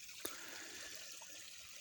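Pumped water trickles softly into a catch at the top of a farm pond, a faint steady dribble with one brief splash early on.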